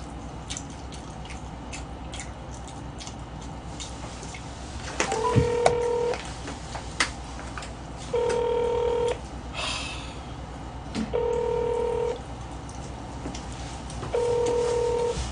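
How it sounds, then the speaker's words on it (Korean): Telephone keypad dialing tones as a call is placed, a few short bursts of beeps spaced evenly apart, fairly clear over a steady background hum with no talking. "규현아님 전화해봐"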